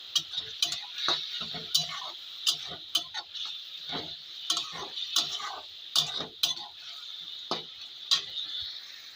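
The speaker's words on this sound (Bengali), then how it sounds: "এবার এখন নেড়ে দেবো" Ginger-garlic paste with green chilli is stirred in a pan of oil, making a run of sharp, irregular scraping clacks from the spatula over a soft continuous sizzle, close and fairly quiet, with no talking.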